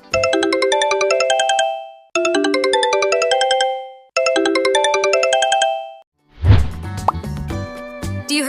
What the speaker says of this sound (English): Perfect, that's a Vivo.